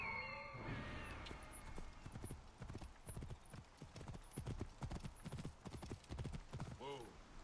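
Hooves clip-clop rapidly in a galloping rhythm, close and continuous, with a horse whinnying near the end, in the video game Assassin's Creed Origins.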